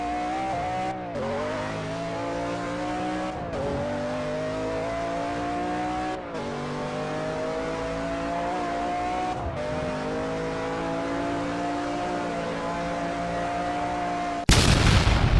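A van's engine revs continuously at high pitch on a main road, climbing through gear shifts with brief dips between, loud and close, with no one talking.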